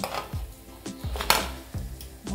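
Fried sabudana vadas being lifted out and set down on a plate. It comes through as a few soft, quiet clinks and thuds spaced about half a second apart, with no talking.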